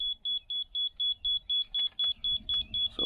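A laser level receiver mounted on a grade rod gives a rapid, even train of high electronic beeps, heard close up during patio excavation, with faint handling noise under the final beeps.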